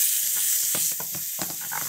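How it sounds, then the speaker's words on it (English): Spring onion and tomato dropped into hot oil give a steady bright sizzle and hiss, with a few stirring scrapes and clicks over roughly two seconds, fairly close and without talk. "Once the oil is nice and hot, we're just going to pop in our spring onion and our tomato. I love that sound."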